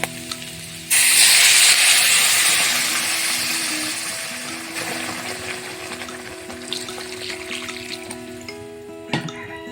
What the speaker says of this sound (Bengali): এবার এর মধ্যে দিয়ে দেওয়া হবে জল আর এখানে রান্নার জন্য আমরা গরম জল ব্যবহার করছি